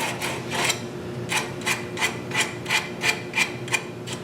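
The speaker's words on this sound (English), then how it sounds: "I can soften up these edges a lot with a little bit of 80 grit, depending on how much you want to sand." Rhythmic hand sanding with 80 grit sandpaper rounds the edges of a wooden scoop, about a dozen close, even rasping strokes with nothing else heard.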